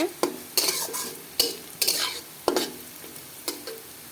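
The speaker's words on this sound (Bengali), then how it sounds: "পেঁয়াজ আমার ভাজি করা প্রায় হয়ে আসছে" Onions fry in a pan with a low sizzle, while a utensil stirs them in sharp, regular scraping strokes against the pan, close and without talk.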